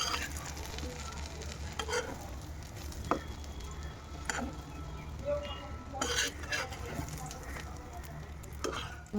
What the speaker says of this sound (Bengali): এভাবে ভেজে নিচ্ছি তারপর ভাজার পরে আপনার বেগুনটা ভাজা হয়ে গেল